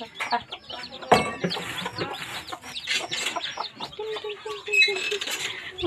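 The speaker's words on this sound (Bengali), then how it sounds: "টিনটিনি বাচ্চা দেখছো মুরগির, অনেক সুন্দর।" A hen clucks among her small chicks in a farmyard, with many high, thin peeps and wing flaps scattered throughout, a steady busy chatter of fowl close by.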